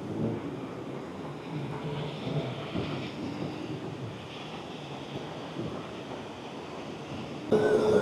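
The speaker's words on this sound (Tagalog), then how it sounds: "kitang-kita nyo naman yung alon, medyo ang lakas." Steady, rushing surf of ocean waves breaking continuously on a beach in Da Nang, Vietnam, moderately loud with a windy hiss over the microphone.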